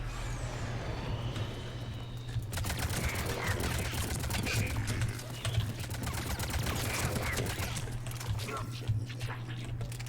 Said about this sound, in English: Could that thing stop fucking firing